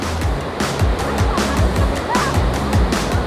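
Ocean waves breaking on the beach at El Nido, Palawan, a loud, continuous surf wash with repeated crashing swells close by.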